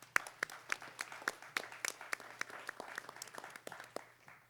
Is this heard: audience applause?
yes